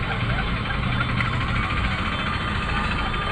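Traffic on a crowded road in Ayodhya, with engines of cars, bikes and trucks idling and rumbling together in a steady, loud, continuous drone nearby.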